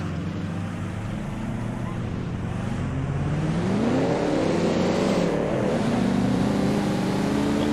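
A 1934 Alfa Romeo P3 vintage racing car in the Assetto Corsa racing game holds a steady, loud engine drone that rises in pitch as it accelerates out of a hairpin, with a rival Bugatti racing close by.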